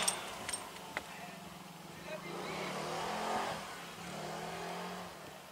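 A motorcycle engine swells in the middle distance and passes on a quiet outdoor route, building to a steady roar and then fading, with no talk over it.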